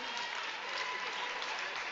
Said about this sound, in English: Gets an applause from the crowd.